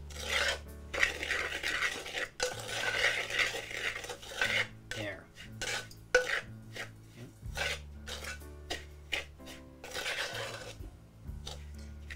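Batches of ground Jaffna-style chili powder are mixed, irregular scraping and rubbing of a utensil against a bowl in bursts with short pauses, close and fairly quiet.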